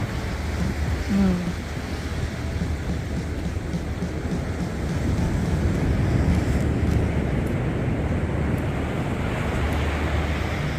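Ocean waves surge and wash at high tide onto an eroded Gold Coast beach after a tropical cyclone. The surf roars loud and continuous, a steady broadband rush that swells slightly in the second half.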